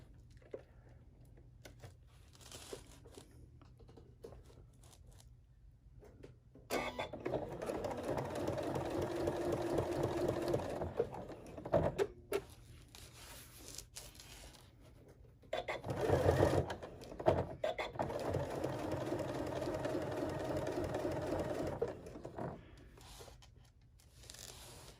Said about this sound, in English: we are just going to stitch on these straps one at a time